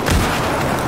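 A grenade blast in Battlefield 4 lands as one short, loud, broadband burst with a booming low-end thump, close and alone.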